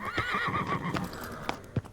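A horse whinnies in a phone commercial, its neigh rising clearly over the scene, with a couple of sharp hoof clops near the end.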